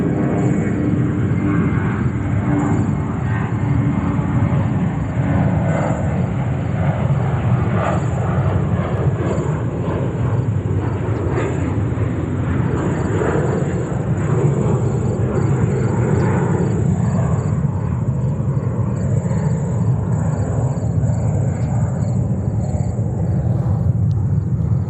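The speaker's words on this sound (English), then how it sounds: "And the next one is already on the runway. Doing a takeoff roll, back-to-back takeoffs." A jet airliner rolls down the runway for takeoff at New York's JFK airport, its engines giving a steady, loud, broadband roar and rumble that holds for the whole stretch with no voices.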